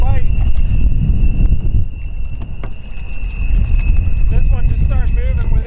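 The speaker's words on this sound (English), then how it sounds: "This is tough with all that wind" Strong wind buffets the microphone outdoors on a river during a smallmouth fishing trip, giving a loud, steady rumble that runs the whole time, with a steady high tone and a voice speaking over it.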